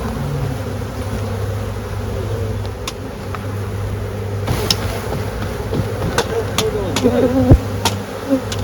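Honey bees hum around an open hive in an outdoor apiary where frames are being placed, a steady close drone with a vehicle rumbling faintly behind and a few knocks of equipment.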